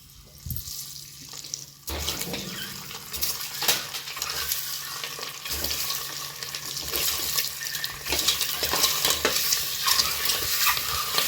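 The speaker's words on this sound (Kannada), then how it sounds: "ಮೊಟ್ಟೆನೆಲ್ಲ ಈ ಥರ ಚೆನ್ನಾಗಿ ಹುರ್ಕೊಳ್ಬೇಕಾಗುತ್ತೆ, ಏಕೆಂದರೆ ಮೊಟ್ಟೆಗೆ ಮಸಾಲೆ ಎಲ್ಲ ಚೆನ್ನಾಗಿ ಹಿಡಿಬೇಕು" Eggs stirred and fried in a pan with garam masala and salt while cooking egg biryani: a steady sizzle with scraping stirs, close and loud, growing slightly denser, no talking.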